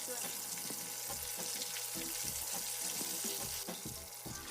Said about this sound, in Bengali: একটু সময় নিয়ে চিকেনগুলোকে ব্রাউন করে ভেজে নিতে হবে